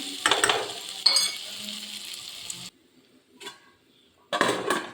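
Potato and capsicum stir-fry being stirred in a pan, heard as close bursts of scraping and sizzling that break off into short quiet pauses before another round of stirring.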